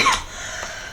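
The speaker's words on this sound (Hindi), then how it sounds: "मैं खांसती रहूँगी क्योंकि मेरा गला खराब है" A woman coughs once, sharp and close, followed by a brief breathy tail and quiet room air.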